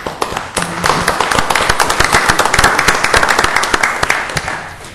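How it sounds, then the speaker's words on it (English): A room of people at a city council meeting applauds the Main Street program staff, dense sustained clapping at close range that starts after a brief pause and runs steadily to the end. "You guys deserve a round of applause"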